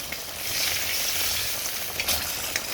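Koi fish curry being sautéed in a hot pan, a steady close sizzle with occasional louder crackles and spatula scrapes, no voices over it.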